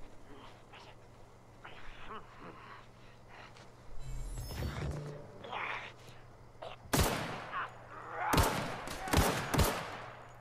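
Gunfire in The Outer Worlds during first combat, starting as scattered quieter shots and building to several loud, sharp bursts near the end over a steady game background hum.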